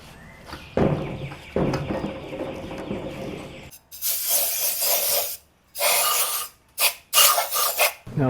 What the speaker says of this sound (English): I'll go over the head again with some acetone.